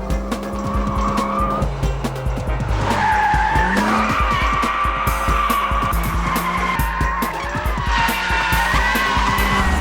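Aston Martin sports car skidding on track, tyres squealing loudly and continuously over a steady engine roar, with shifting pitch as the car slides through corners.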